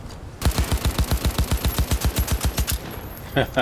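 Automatic gunfire in Cyberpunk 2077, a rapid steady burst of about two dozen loud, punchy shots from a recoiling weapon, ending abruptly with a few trailing sounds.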